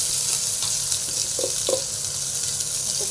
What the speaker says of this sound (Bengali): কালো জিরে আর শুকনো লঙ্কা ফোড়নে দিচ্ছি